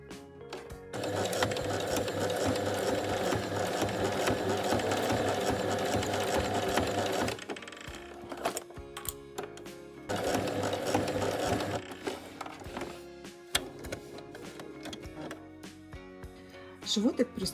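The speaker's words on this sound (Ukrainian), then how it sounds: "І зараз прокладаємо строчку." Sewing machine stitching a seam on a soft tactile toy hippo, a steady mechanical whir running for several seconds, stopping, then starting again for a shorter burst, close and fairly loud.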